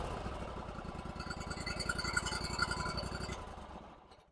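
A Bercomac two-stage snowblower engine idles steadily while warming up, a low, even mechanical drone with a faint higher whine, holding moderately loud before cutting off near the end.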